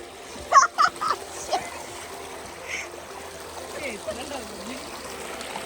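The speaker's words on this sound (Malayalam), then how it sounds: "ഇവിടെ ഒരു വെള്ളച്ചാട്ടം, ഒരു കുഞ്ഞു വെള്ളച്ചാട്ടം." A small waterfall along a hiking trail on the Warrie circuit at Springbrook gives a soft, continuous trickle and splash. A few brief louder splashes come early, and the water stays faint under the outdoor background.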